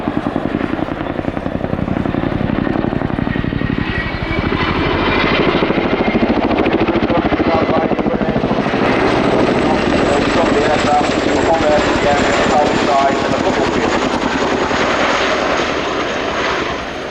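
A Chinook helicopter at the Royal International Air Tattoo performs a nose-down stop, its loud, continuous rotor and engine roar filling the air steadily, with faint speech running underneath.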